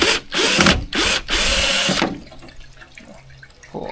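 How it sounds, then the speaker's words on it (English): Power driver backing screws out of a homemade DIY pond filter in a few loud whirring bursts for about two seconds, followed by quieter handling noises. "Pull all these screws."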